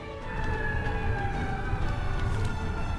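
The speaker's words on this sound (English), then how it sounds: "Why is there an ambulance?" An ambulance siren in a Super Monkey Ball DS video game wails steadily at moderate volume over a low rumbling background, with no speech.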